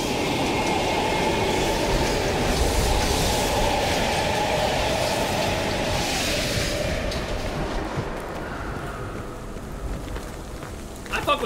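A train rushes past in the video game Black Ops Cold War, a loud, continuous rumble and clatter of rail cars that fades slightly toward the end.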